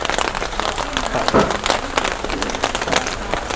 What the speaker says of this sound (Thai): ฝนก็ตกนะคะคุณผู้ชม